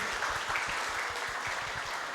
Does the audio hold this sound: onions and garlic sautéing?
no